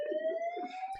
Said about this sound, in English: I have a fire alarm going off.